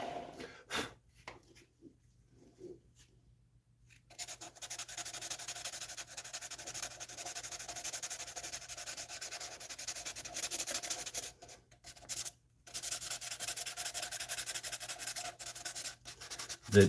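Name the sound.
sanding on a lathe with a custom grit finishing system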